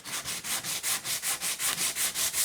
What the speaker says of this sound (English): I've got a really rough 60 grit pad on this block